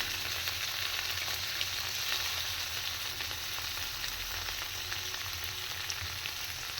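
Paneer fries in a pan for palak paneer, a loud, continuous sizzle filling the whole stretch with no pauses and no voices.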